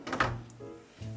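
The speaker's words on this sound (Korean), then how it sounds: "문을 열고" A room door opens with a dull thunk and a brief creak at close range, and a voice speaks over it.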